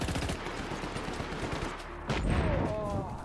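Gunfire in the video game Just Cause 3, a rapid stream of loud automatic shots layered over background combat noise, with a heavier burst and rumble near the end and no talk.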